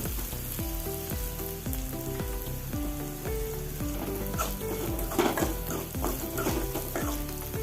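Onions, curry leaves and green chillies fry in a pan on a gas flame, a constant close sizzle with regular scraping stirs and light utensil taps, no voices over it.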